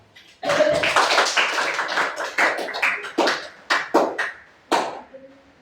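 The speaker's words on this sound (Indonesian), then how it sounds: "untuk teman kita silakan beri aplaus untuk mereka" A small group of listeners claps for a presenting group in a teacher-training session, starting with a sudden burst of close, sharp claps that thins into scattered single claps and then stops.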